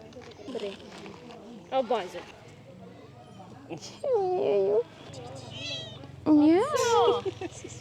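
Several high, rising kitten meows come in short bursts, close by, at night in Tayrona National Park, Santa Marta, Colombia, while a person talks excitedly over them.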